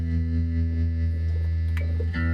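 A vintage 1970s AIMS VTG-105 guitar amp with its tremolo engaged, a sustained electric guitar tone pulsing steadily in volume over a constant low hum, loud and close with a brief dip near the end.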